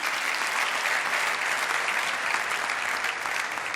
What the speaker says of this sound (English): Let's have another round of applause for Hervé.